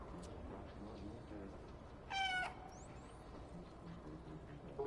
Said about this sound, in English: You love watching the looks on their robots' faces when you meow.